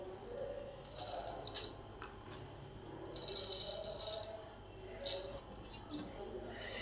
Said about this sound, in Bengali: এবার এই ঘিয়ের মধ্যে চালটাকে দিয়ে দেব।